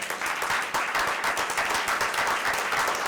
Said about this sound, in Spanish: Un aplauso para todos ustedes.